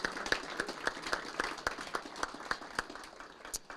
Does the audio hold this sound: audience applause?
yes